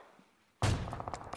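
A single sharp gunshot landing a headshot in a video game, striking suddenly after near silence and followed by a short trail of softer echoing thuds and clatter.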